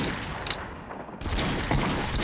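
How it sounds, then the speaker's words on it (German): Gunfire in the video game Trouble in Terrorist Town comes as a short, rapid volley of shots heard at a moderate distance over steady game noise. "Da wurde geschossen"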